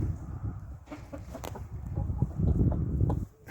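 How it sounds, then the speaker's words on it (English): A cockerel clucks in short, repeated bursts among farmyard chickens at a cabin, fairly close and steady over a low ambient background, with a louder run of clucks toward the end. "cockerel makes me laugh. He clucks away and they come running"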